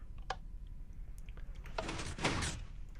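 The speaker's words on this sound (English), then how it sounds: "this button in here just closes the door." A Minecraft redstone door shuts after a button press in the video game, a soft click followed by a brief sliding mechanical swish, fairly quiet with a faint background hum.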